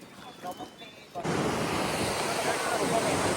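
Sea waves near an island on Chilika Lake, a broad steady rush of surf that swells in after a quiet second and then stays loud and continuous, with wind noise mixed in.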